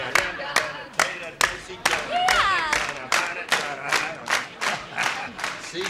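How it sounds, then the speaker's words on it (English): A studio audience claps in a quick, steady rhythm of sharp, evenly spaced beats, with crowd voices and cheers mixed in throughout. "They're applauding."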